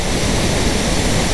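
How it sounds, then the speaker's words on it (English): Steady, loud broadband rush of a waterfall behind a trout-fishing spot, a continuous roar with no breaks and no voices over it. "Beautiful waterfall back there."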